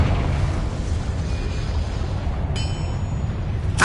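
A Confringo blasting spell explodes in Hogwarts Legacy, a loud, sustained rumbling blast with crackling debris, followed near the end by a sharp magical chime and another burst.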